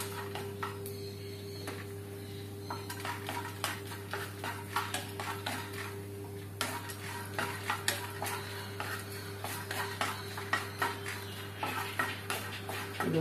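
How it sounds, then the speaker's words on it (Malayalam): A spoon scrapes and taps steadily as lentils are dry-roasted and stirred in a pan, a rapid irregular clatter over a low hum, close by and with no voices. "ആദ്യം നമ്മൾ കുറച്ച് പരിപ്പ് മാറ്റി വെച്ചിട്ടുണ്ടല്ലോ, അത് ആദ്യം ഒന്ന് റോസ്റ്റ് ചെയ്തെടുക്കാം."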